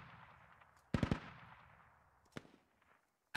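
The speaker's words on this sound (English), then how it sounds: "MTLB is just peppering through them sandbags" MT-LB machine gun in the Squad video game peppering sandbags: a quick cluster of sharp bursts, then a lone shot and a last crack, fairly faint over a low background.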